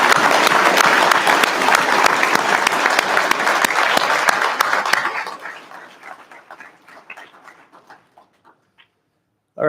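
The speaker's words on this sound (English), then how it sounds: "How about one more round of applause for all our newly promoted engineers?" An indoor crowd at a fire service promotional ceremony claps loudly for newly promoted engineers. The dense applause holds for about five seconds, then thins to scattered claps and silence.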